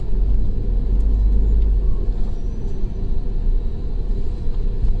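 Tata Harrier 2020 SUV on a road, a steady low engine and road rumble filling the cabin throughout, loud and continuous with no talk.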